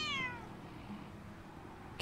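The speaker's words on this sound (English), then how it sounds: "Oh, it's a cat." A cat in the video game Book of Travels gives a single falling meow at the start, followed by quiet background and a brief noise burst at the end.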